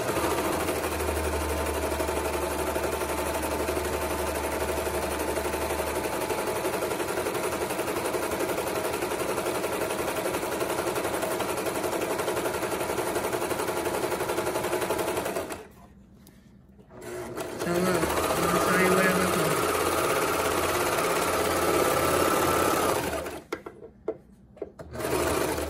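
A serger machine whirs rapidly and steadily while sewing fabric for a circle skirt, close and continuous, stopping briefly twice before starting up again.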